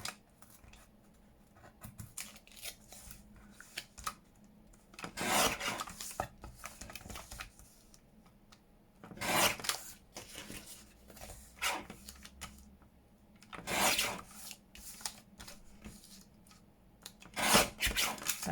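Scissors cutting pieces of masterboard, heard as a handful of separate crisp snipping and rasping strokes spaced several seconds apart, close and fairly clear, with quiet rustling handling in between.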